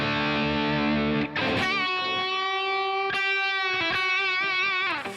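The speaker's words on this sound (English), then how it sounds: "what you're hearing is just the placator overdrive" An electric guitar runs through the Placater overdrive on a Line 6 Helix, playing sustained, harmonically rich overdriven notes and bends with a few picked accents, loud and continuous throughout without talk.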